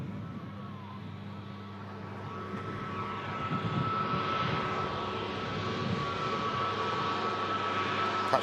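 An Airbus neo jet airliner rolls past at an airport, its engines a steady broadband whine and rumble with a thin tonal hum, swelling gradually louder and nearer over several seconds.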